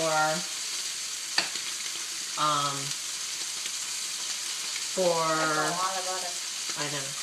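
Ribeye steak frying in butter in a pan, a steady hissing sizzle running beneath intermittent talking.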